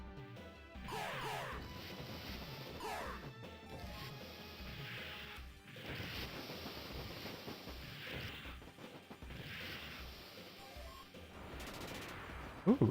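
Rapid bursts of gunfire and crashing impacts from a run-and-gun video game, coming in clustered volleys with short gaps, fairly quiet overall.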